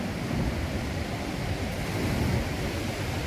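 Surf breaking on the beach at Playa de Palma in Arenal, Mallorca, a steady, loud broadband wash of waves with wind noise on the microphone and no clear breaks between swells.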